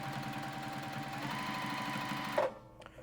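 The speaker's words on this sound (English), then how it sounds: "drop down our foot, and begin sewing" A Juki sewing machine stitches through four layers of denim with a steady, close mechanical hum and rapid needle chatter that stops abruptly near the end, followed by a brief clunk. No one speaks.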